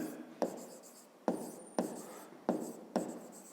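Pen writing by hand on paper while working a fifth-grade geometry exercise, five sharp scratchy strokes each starting with a crisp attack and trailing off, close and fairly quiet with no talking.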